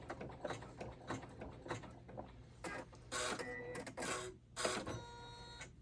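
A home embroidery machine runs a tack-down stitching step, fast mechanical needle chatter in short bursts with whirring pauses, close but fairly quiet, no talking.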